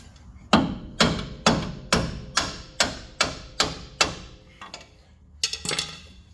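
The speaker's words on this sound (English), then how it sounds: "give that a couple whacks with your hammer" A hammer strikes the top of a bolt during front strut assembly on a 2004 Toyota Tacoma, giving about ten sharp, evenly spaced metallic whacks. A short cluster of quicker taps follows, close and clear, with no talking.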